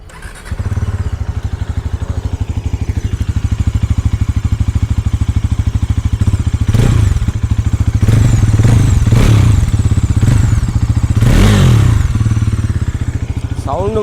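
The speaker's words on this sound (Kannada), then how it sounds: "ಇದರದ್ದು ಎಕ್ಸಾಸ್ಟ್ ನೋಟ್ ಒಂದು ಕೇಳ್ಕೊಂಡು ಬರೋಣ ಯಾವ ಥರ ಬರ್ತದೆ ಅಂತ" Bajaj NS400Z motorcycle with an underbelly exhaust idles loudly up close, then is blipped several times in quick revving bursts before dropping back to a steady throb.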